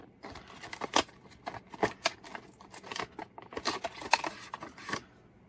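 Plastic packaging around a Bell+Howell TAC camera is pried open by hand, giving close, sharp crackling and crinkling bursts in an uneven rhythm with brief pauses between.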